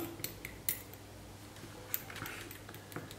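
A paintbrush stirs oil paint with essence F turpentine in a small pot, giving faint, scattered clinks and taps against the container with quiet pauses between them.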